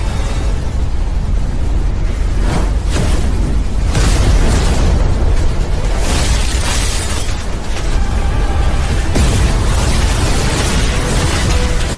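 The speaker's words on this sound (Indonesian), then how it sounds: "Efek pertarungan keduanya membuat ledakan yang sangat dahsyat di dalam dimensi itu" A massive explosion from a climactic fight in an animated fantasy series rumbles on continuously, a dense, loud, roaring wall of blasts and debris with no pause throughout.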